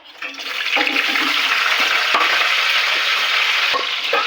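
Green chillies hit hot oil in a kadai, setting off a loud burst of sizzling that swells within the first half second and holds as a rushing, crackling hiss with occasional sharp clicks.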